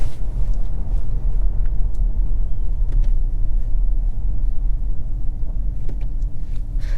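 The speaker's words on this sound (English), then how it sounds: "Let's try boost mode. Woo! It'll just get down to the lowest gear possible and it'll just take off like a missile." A 2023 BMW 740i with a B58 straight-six engine accelerates hard in boost mode, producing a steady, loud, deep rumble heard from inside the car, with no talk.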